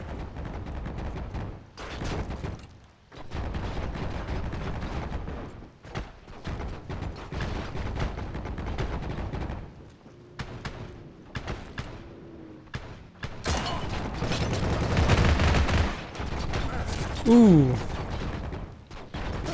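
Gunfire in the WWII shooter Heroes and Generals, infantry combat with sharp repeated shots and bursts in irregular clusters, some near, some distant, with someone talking between them.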